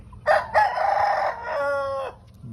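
A young rooster crows once nearby, a loud strained call with a drawn-out wavering end, heard on its own against faint background noise.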